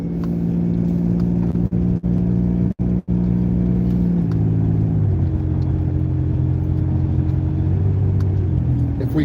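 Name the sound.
car accelerating out of a tight left turn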